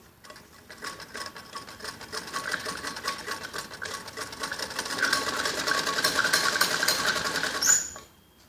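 Sewing machine stitching elastic onto the waistband of a kids' skirt, running in one steady, continuous rapid whir that builds slightly louder toward the end before stopping abruptly, close by with no talk.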